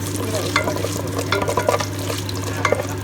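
Dried red chillies and cumin tempering in hot oil in a wide pan, a steady close crackle with scattered small pops over a constant low hum.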